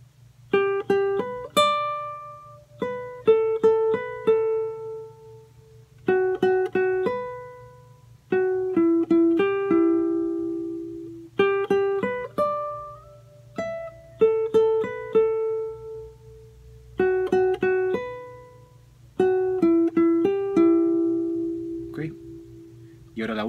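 A full phrase of a song played on guitar: repeated groups of quick plucked notes, each group ending on a sustained note, steady and close, with no voices heard.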